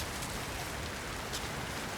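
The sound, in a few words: rain falling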